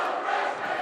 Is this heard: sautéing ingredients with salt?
no